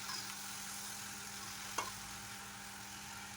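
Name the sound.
taro pieces frying in hot oil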